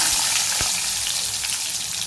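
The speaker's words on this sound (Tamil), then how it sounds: "கடுகு வெடிச்சிருச்சு." Mustard seeds crackle and splutter in hot oil in a home kitchen while a curry-leaf kuzhambu is cooked, a steady close sizzle with faint irregular pops.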